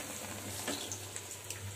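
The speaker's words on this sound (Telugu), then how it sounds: "వేసుకొని 2 sides brownish, light brownish colour వచ్చేంత వరకు ఫ్రై చేసుకోవాలి ఫ్రెండ్స్" Vadas frying in oil in a pan, browning on both sides, give a steady soft sizzle with a low hum beneath and a few faint crackles and pops, heard alone at low level.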